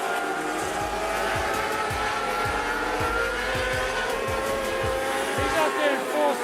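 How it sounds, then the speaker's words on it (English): Formula 500 race cars circle Rockhampton Speedway, their engines droning loudly and continuously with repeated passing surges, while a commentator talks over the noise throughout. "Car 70 having a bit of trouble, Kim Ibanez."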